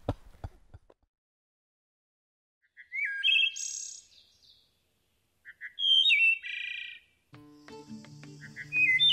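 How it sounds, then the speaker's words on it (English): A wood thrush sings its flute-like song in clear, separate phrases with quiet gaps between them, fairly close and alone, with no other sounds. "The wood thrush is a unique bird with flute-like songs that adds music to summer mornings"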